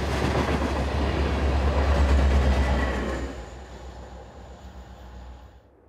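Freight train with an SD70ACE locomotive for distributed power at the tail, rumbling and clattering loudly along the rails as it passes, then fading into distant rolling noise.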